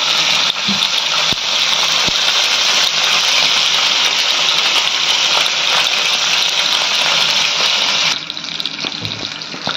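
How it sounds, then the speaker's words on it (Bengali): Fish frying in hot oil, a loud, dense, continuous sizzling hiss close by that holds steady for several seconds before easing slightly near the end. "তেল গরম হয়ে গেছে, এবার মাছগুলো আমি ভেজে নেব।"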